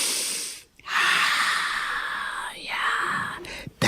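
A person takes a deep breath, a long breathy inhale and exhale close to the microphone, with a brief pause and a soft catch partway through.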